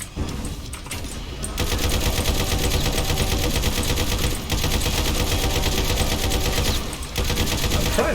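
Rapid, continuous automatic gunfire from the Doom mod Slayers Rampage, loud and dense, running almost unbroken for several seconds with only brief dips, and no speech over it.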